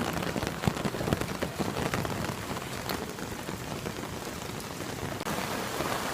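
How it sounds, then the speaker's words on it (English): Heavy rain pours down steadily in Japan, a dense, constant hiss with occasional louder drips and splashes close by, no voices. "and it's raining like crazy."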